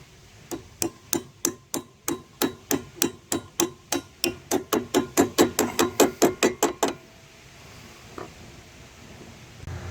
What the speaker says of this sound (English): let's see if we can tap this in place